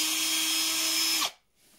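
A power drill whines steadily at high speed, boring through the wall of a plastic tube, then spins down and stops abruptly, leaving near silence.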